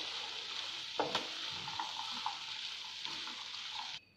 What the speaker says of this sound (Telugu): అన్నిటిని బాగా కలపండి